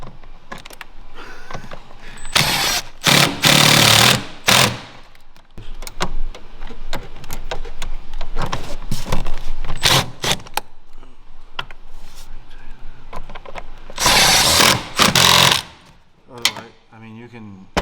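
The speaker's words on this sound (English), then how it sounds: "And then we take our 8mm on the rattle gun." An impact wrench with an 8mm socket working on a Silverado during a fog light harness install, firing in several short loud rattling bursts with quieter mechanical handling noise between them.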